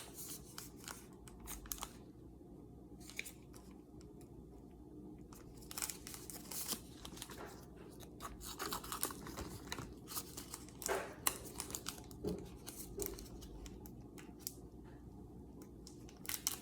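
Paper is handled and crumpled up close, with continuous crinkling and rustling broken by frequent sharp crackles and bursts over a low background hum.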